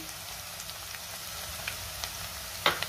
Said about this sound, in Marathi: आता आपल्याला यामध्ये टोमॅटो घालायचा आहे